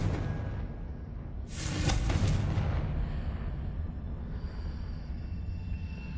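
A Confringo fire spell erupts in Hogwarts Legacy, a sudden loud whooshing blast that swells over a rumbling game soundscape and fades into a lingering low roar.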